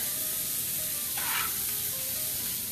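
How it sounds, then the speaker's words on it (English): Onions sizzle in a hot pan, a steady close frying hiss that runs throughout and swells briefly midway, as if the pan is being stirred, with no talking. "I'm going to throw some onions in here."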